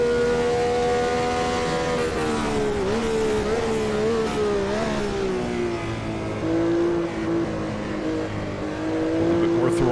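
Brabham BT46B fan car from Automobilista 2, its engine a loud, continuous high-revving whine that rises and falls with throttle and gear changes, running unbroken throughout with faint talk underneath.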